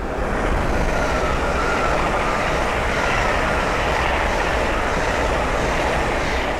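A Class 801 train rolls past at low speed at Sandy on the East Coast Main Line, a constant, loud, broad rumble and hiss of wheels on track that stays even for several seconds.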